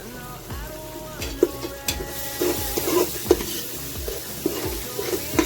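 Spices fried and stirred in a pan for mutton paya made from goat trotters, a busy sizzle broken by repeated scraping strokes of a spoon against the pan, close and clear with no voices.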